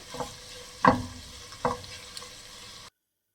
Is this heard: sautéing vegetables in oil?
yes